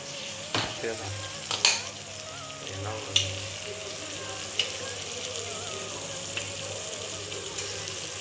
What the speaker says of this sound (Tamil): இஞ்சி பூண்டு பேஸ்ட் தாளிச்சாச்சு